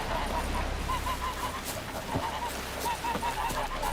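A goose in The Witcher 3: Wild Hunt honks repeatedly in short bursts, moderately loud over a constant background of game ambience.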